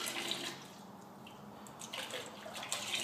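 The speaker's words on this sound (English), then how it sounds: "And then I'm going to add water." Water trickles and splashes into a colorant paint mix, a soft, close pour that fades briefly and then picks up again.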